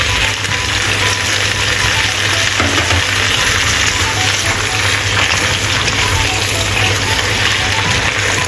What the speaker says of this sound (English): Add water from side of wok.